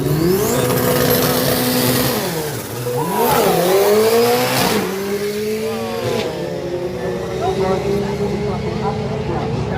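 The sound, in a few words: drag racing car launching off the line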